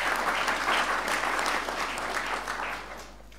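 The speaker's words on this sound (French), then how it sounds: "Et que je demande d'applaudir" Audience applause at a graduation ceremony for hydrology engineers, a full, even wash of many hands clapping that carries on steadily before thinning out in the last second.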